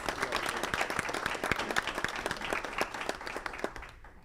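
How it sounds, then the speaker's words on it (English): A small crowd at a school board meeting claps for students being honored, individual hand claps sharply distinct in a close, room-sized round that fades out near the end. "I'm going to give them a round of applause."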